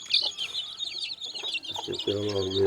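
Country hens cluck in short, bright calls alongside chirping, ending in a steady, drawn-out cackle, with a voice briefly speaking nearby.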